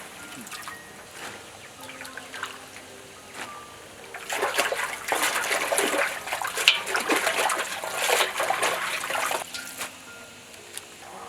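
Freshly picked red chili peppers washed by hand in water, with irregular splashes, sloshing and trickles that grow busier in the middle, close and moderately loud, with no talk.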